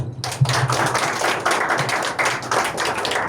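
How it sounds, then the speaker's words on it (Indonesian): An audience claps at a teacher training session, a dense burst of many hands that starts abruptly and carries on steadily, fairly close. "tepuk tangan."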